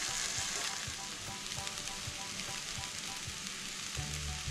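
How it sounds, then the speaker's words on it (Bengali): Rice being stir-fried with spices in a pan for hilsa pulao, producing a continuous soft sizzle with faint stirring scrapes, no voices. "এবার মশলার সাথে ভালো করে আমি চালটাকে নাড়াচাড়া করবো অন্তত মিনিট পাঁচে।"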